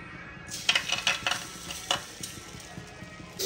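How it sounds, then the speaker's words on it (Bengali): A dosa fries in a pan with a faint, steady sizzle, broken by a few light scraping and clinking taps in the first couple of seconds. "আমার এই দোসাটা হয়ে গেছে, আমি আর এটা ভাজবো।"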